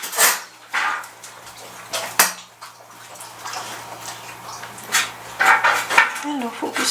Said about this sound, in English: what you hear is my dogs drinking water